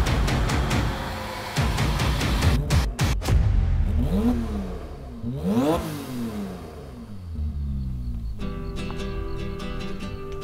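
A 1,000 hp Porsche 911 Turbo engine revs hard on a drive, rising and falling in loud, close surges with gear changes, then settles into a steady, throaty cruise.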